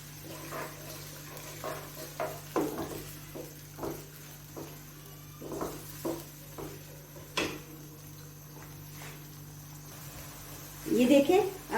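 Onions frying in a pan for beef masala kabab, a quiet sizzle under repeated scraping taps of a spoon being stirred, with a louder clatter near the end.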